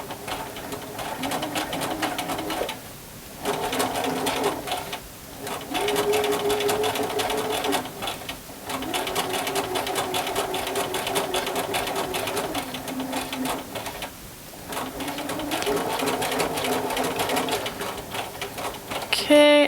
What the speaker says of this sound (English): And I'm going to start and back stitch.